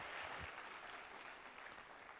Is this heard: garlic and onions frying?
no